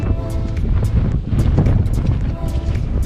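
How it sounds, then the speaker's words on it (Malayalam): Strong wind buffets the microphone on a hilltop at sunrise during overnight tent camping, a loud, steady broadband roar with gusty surges throughout. "നല്ല കാറ്റുണ്ട് കേട്ടോ, നല്ല കാറ്റുണ്ട്."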